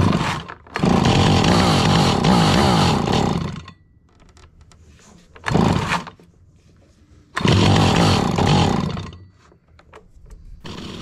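An antique Stihl 028 Wood Boss chainsaw engine revs loudly in three bursts, dropping to a rough idle between them at close range.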